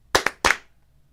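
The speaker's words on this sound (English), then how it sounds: "Two claps for Aaron." Two sharp hand claps ring out close together in honour of football player Aaron Anderson at an LSU practice, followed by a third, slightly separated clap, then quiet.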